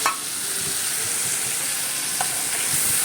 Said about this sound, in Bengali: এবার এই পেস্টটাকে আমি একটু জল মিশিয়ে ওই তেলের মধ্যেই দিয়ে দিলাম